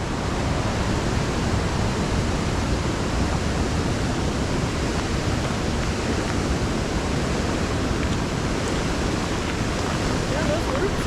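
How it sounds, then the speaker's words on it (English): Waterfall water rushes hard underneath the listener, a dense, loud, continuous roar with no breaks. "This is the same water that was on those waterfalls running underneath us."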